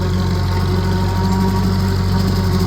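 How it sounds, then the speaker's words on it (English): A vintage Ferguson TO35 tractor in second gear drags a bush hog cutter through waist-deep growth on a homestead, its engine a steady, loud, loaded drone with a constant low rumble throughout. "You can hear how it loads up the tractor."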